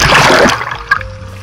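A person jumps into the dark sea off Rimini at midnight, making a loud close splash that settles quickly into faint sloshing water.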